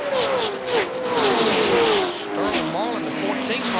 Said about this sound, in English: Car was spinning down pit road